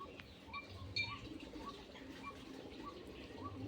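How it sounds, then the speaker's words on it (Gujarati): Pigeons let out of their coop coo faintly in a soft repeated pattern, with light chirps and a low background murmur, fairly distant and quiet. "જો ચિરાગે તો કબૂતરા કાઢ્યા છે।"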